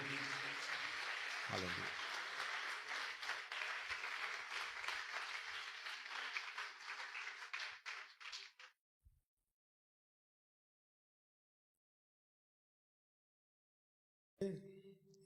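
A church congregation applauds in sustained, dense clapping mixed with a voice for several seconds, then the sound cuts to silence before a brief return at the end.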